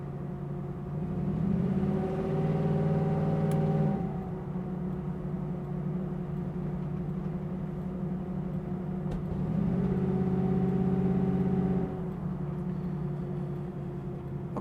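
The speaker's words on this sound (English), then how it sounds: "run it through a few gears, show you what the motor performs like" A 1969 Chevrolet Camaro engine pulls through the gears, its steady drone swelling twice as it climbs in revs, each rise cut off by a shift before it settles back to a lower hum, heard from inside the car with no talking.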